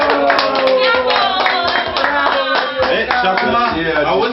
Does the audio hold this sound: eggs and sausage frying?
no